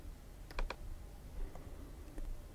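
A few sharp computer mouse clicks on an OK button in RootsMagic 4 genealogy software, close and quiet, with a double click near the start and single clicks after it, with no talking.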